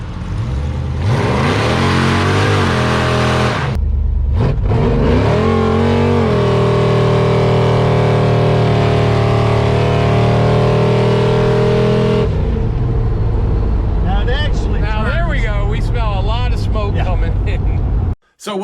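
A 1970 gasser's engine revs hard and surges through long accelerations on a ride, loud and close with rising and falling pitch sweeps and a brief drop before it settles into a steady roar, with people talking over it toward the end.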